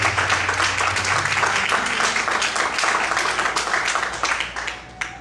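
A church congregation claps together in praise during an evening service, loud dense applause filling the space and easing off near the end.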